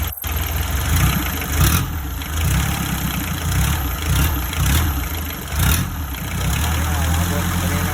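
SD23 diesel engine idling steadily with a low, even rumble and a few slight revs, close and loud, with people talking over it.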